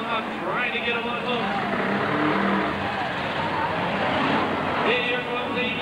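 Demolition derby cars rev and grind in a dirt arena, a dense roar of several engines rising and falling continuously while an announcer talks over the noise.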